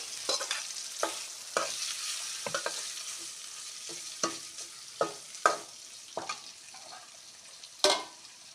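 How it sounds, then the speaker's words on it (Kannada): Paneer stirred and fried in a masala paste in a pan, a steady sizzle broken by repeated scraping spatula strokes at an irregular pace, close and fairly loud with no talking. "ಇದಕ್ಕೆ ಪನ್ನೀರನ್ನು ಆ್ಯಡ್ ಮಾಡ್ತಾ ಇದ್ದೀನಿ"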